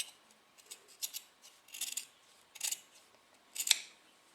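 Fabric scissors snip away excess seam allowance during French-seam sewing, a series of sharp, close crisp cuts spaced irregularly over a quiet background.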